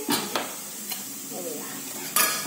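Chillies tossed into a hot pan for a cabbage stir-fry give a soft sizzle under scraping and stirring from a utensil, with a few clinks of cookware.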